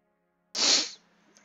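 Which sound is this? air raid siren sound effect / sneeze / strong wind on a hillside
sneeze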